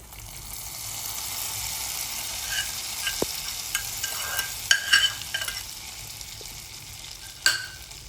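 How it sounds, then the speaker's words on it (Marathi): Roasted cashews and almonds are tipped into a pot of carrot kheer and stirred, a continuous soft sizzle under scraping and clinking of a spoon against the pan, with a few sharper knocks. "आपले काजू बदाम आता भाजून झालेले आहेत. छान आपण आता आपल्या खिरीमध्ये सोडूया."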